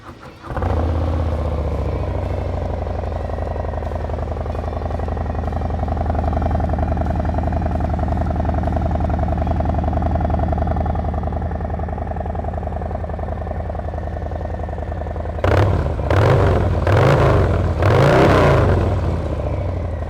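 A custom Harley-Davidson Low Rider ST motorcycle engine idles with a steady, loud rumble for a long stretch, then revs sharply several times in quick bursts near the end.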